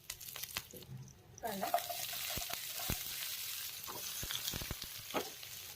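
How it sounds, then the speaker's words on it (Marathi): Mustard seeds, cumin, garlic and curry leaves hit hot oil in a pan, raising a steady close sizzle with sharp crackling pops scattered throughout, and a voice speaks faintly beneath it. "ऑइल गरम झाल्यानंतर मोहरी, थोडीशी जिरे, लसूण,"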